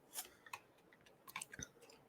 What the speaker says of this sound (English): cough drop crunch.